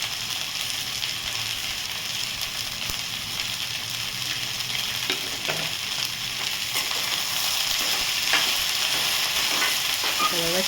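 Sliced okra (bhindi) sizzling steadily in a pan over a medium gas flame, with occasional soft scrapes and clinks as it is stir-fried after salt goes in; a continuous close-up hiss without talk.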